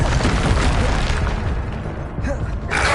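A Bombarda blast spell from Hogwarts Legacy on PS5, heard as a dense, continuous booming rumble of spell explosions with a brief dip near the end before the noise swells again.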